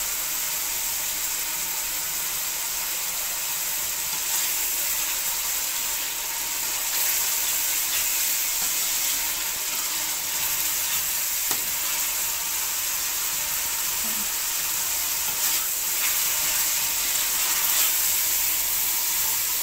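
Masala for dhaba-style fried dal mash sizzles in ghee in a pan as it is fried down, making a steady, close hiss with faint scattered crackles throughout and no talking.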